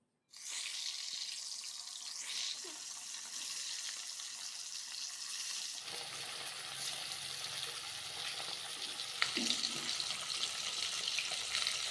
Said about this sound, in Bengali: এখন আমরা মাছগুলিকে ভেজে নিচ্ছি।